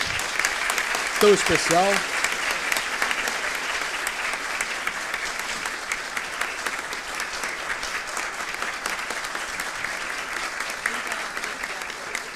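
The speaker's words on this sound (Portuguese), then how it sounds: "Mais uma vez, aplausos por esse dia" Sustained audience applause fills a hall at a legal conference, steady and dense from start to finish, with a short spoken phrase near the beginning.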